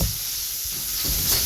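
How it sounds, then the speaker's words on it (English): Hasselback potatoes brushed with oil and herbs, just pulled from the oven after baking, give off a soft, steady sizzle and hiss, faint and close, with no talking. "take it out and you can hear the sizzling sound."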